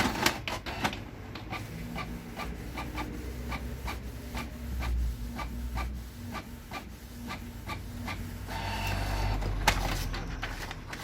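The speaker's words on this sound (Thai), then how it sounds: "เครื่องจะทำการพิมพ์กระดาษมา1แผ่นนะครับ" Canon G3010 inkjet printer feeding and printing a single sheet, a steady run of repeated mechanical clicks and whirring print-head passes with a rising paper-feed rumble near the end, close and alone.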